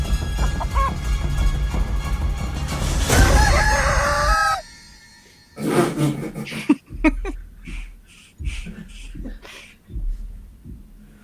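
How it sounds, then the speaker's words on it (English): A rooster crows loudly with a long, wavering call over background noise, followed by quieter scattered sounds and some talking. "Free range chicken."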